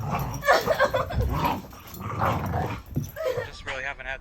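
A new dog growls and yips in rough, playful bursts, close by, with a whimpering whine toward the end.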